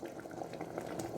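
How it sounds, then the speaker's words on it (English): Coconut oil bubbles and spatters in a pot as it cooks, a close, continuous sizzle and pop with small splashes. "So you can see splashing all over the place"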